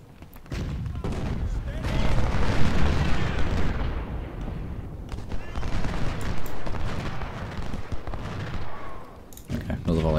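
Massed muskets in Ultimate General: Civil War let off a volley that swells into a long, rolling, crackling roar, holding dense and loud for several seconds before it thins out.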